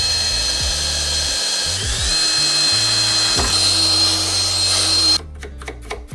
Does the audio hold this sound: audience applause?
no